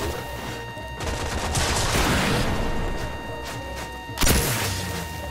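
Rapid bursts of gunfire from the video game Warframe fill the scene, a dense sustained fusillade with a heavy thud near the end, loud and close with no talk over it.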